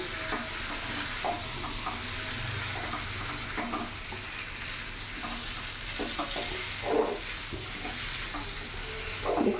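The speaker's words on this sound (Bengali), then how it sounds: "ডিমের মধ্যে আলু মশলা ভালো করে মিশিয়ে নেবো" Duck eggs and small potatoes with spices being stirred in a hot pan, giving a constant sizzling hiss punctuated by soft scraping and occasional spoon clatter against the pan.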